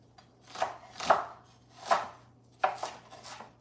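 A knife chopping onions on a cutting board, five or six distinct slow strokes at an uneven pace, fairly close, with a steady low hum underneath.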